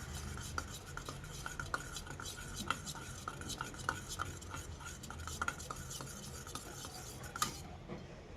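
Whisking curd with Kashmiri chilli powder in a bowl, a steady, fast, close scraping and clicking that runs without pause, soft overall with a few sharper taps.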